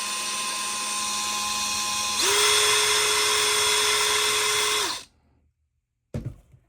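A small drill bit grinding into a diecast toy car gives a steady high whine close up, pitching down as the bit bites into the metal, then cutting off abruptly, followed by a brief clatter.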